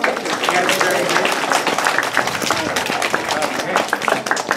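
Audience applauding volunteers at a live animal show, a dense burst of many hands clapping close and steady for several seconds, with voices mixed in.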